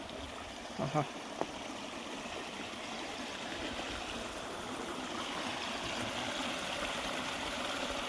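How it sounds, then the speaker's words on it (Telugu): Water from a stream near Mazidpur village by Ramoji Film City, Hyderabad, flows into a canal as a steady, fairly faint rushing wash, with a few brief knocks early on and no talk. "అక్కడ పైనుండి వస్తున్న వాటర్తో ఇది ఇక్కడ నుంచి కాలువలో కలుపుతుంది."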